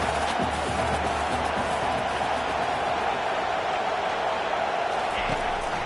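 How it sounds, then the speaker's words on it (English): Football stadium crowd at a college game between Kentucky and Texas roaring steadily on third down, a dense, loud, continuous wash of cheering voices filling the whole stretch. "Decibels rising as the crowd gets behind this defense on third down."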